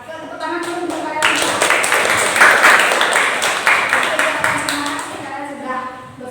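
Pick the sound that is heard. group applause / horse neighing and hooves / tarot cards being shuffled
group applause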